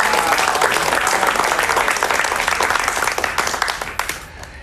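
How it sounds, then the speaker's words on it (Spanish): Studio audience applause on a Latin American late-night talk show, a dense, loud burst of many hands clapping that holds steady and then thins out toward the end, with no talking over it. "Un aplauso para él, por favor."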